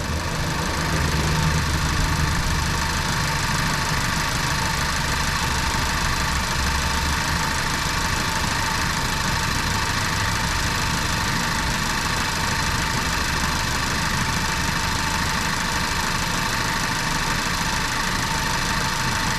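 A loud, close engine idles roughly with a stripped spark plug loose in cylinder 2, a continuous rumble and vibration with an uneven, occasional skip in the firing rhythm, no talking.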